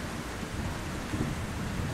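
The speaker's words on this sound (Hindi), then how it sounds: "रात भर तेज बारिश चलती रही।" Heavy rain pours in a dense, steady hiss with low thunder rumbling underneath, loud and continuous throughout with no voices.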